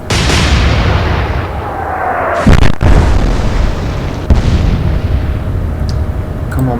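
Naval guns fire in the Atlantic Fleet video game, heavy booms landing at intervals over a continuous rumbling battle din, with a whistling descending tone and sharp blasts near the middle.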